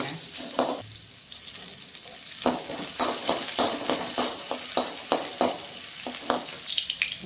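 Shallots and crushed garlic fry in a hot pan for a Tamil veg kuruma, giving a steady close sizzle broken by repeated rhythmic scrapes and stirs of a spoon against the pan, with no talking.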